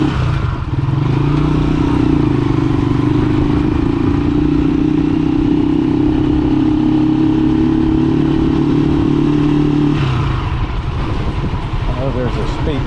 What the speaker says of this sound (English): Driving a trike.